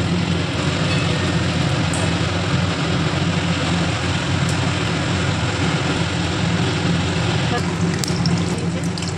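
Chicken cheese balls fry in hot oil, a steady, dense sizzling hiss that fills the scene evenly from start to finish, close and continuous with no pauses.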